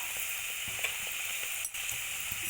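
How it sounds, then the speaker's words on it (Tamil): Sesame vadai deep-frying in hot oil, a constant bright bubbling sizzle close by with small crackles and a few soft knocks underneath, no talking. "இப்போ வந்து நான் எள்ளு வடையை வந்து ஆயிலில் போட்டுறேன் இப்போ வந்து இது நல்லா ஃப்ரை ஆகட்டும் ஆயிலில்"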